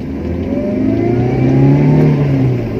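A stock-engined 1996 Toyota Corolla revs hard in first gear, its engine note climbing steadily and loudly from inside the car, with no talk over it.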